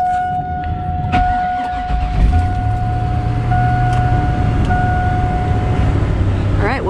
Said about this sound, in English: So I'm starting the car, pre-starting the car.